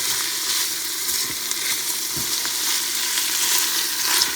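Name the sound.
onions sautéing in a pot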